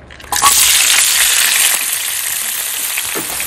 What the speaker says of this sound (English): we have the olive oil in there at a medium to high heat, and we're taking the dried and squeezed Caraille